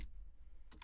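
A couple of quick, faint keystrokes on a computer keyboard as a ping command is typed, two soft clicks close together near the end after a quiet pause.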